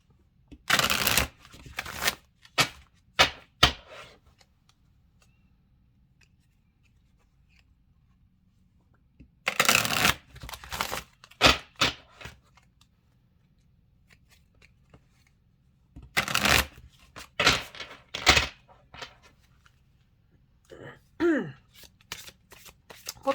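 An oracle card deck, Love Who You Are by Angi Sullins, shuffled in three separate bursts of crisp riffling and flicking cards, close and loud, separated by quiet pauses with a faint murmur of speech.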